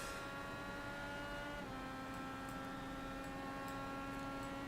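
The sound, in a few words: IndyCar race car engine on track, from a racing video game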